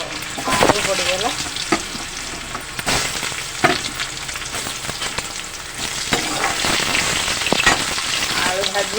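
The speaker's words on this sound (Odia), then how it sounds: "ଆଳୁ ଭାଜି ହେବ, ପିଆଜ ଭାଜି ହେବ" Potatoes and onions frying in oil with cumin and bay leaf, a loud continuous sizzle broken by sharp clacks and scrapes of a spatula against the pan.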